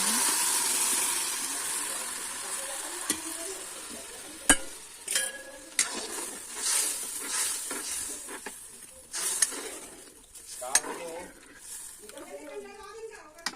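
Dried chilies and onion hit hot oil for tempering, giving a steady sizzle with scattered crackles and stirring scrapes over nearly fourteen seconds, close and moderately loud, with no talking.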